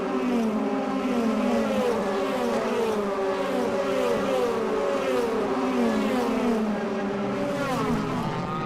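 DTM touring race cars at the 2012 Nürburgring round powering through a tight hairpin: loud, continuous engine howl with overlapping rising and falling pitches as several cars brake, downshift and accelerate away.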